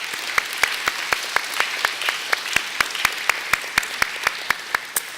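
Audience applause at a nonprofit's annual meeting, a steady patter of many hands with a few sharp, close claps standing out, holding at an even level for about five seconds with no voices.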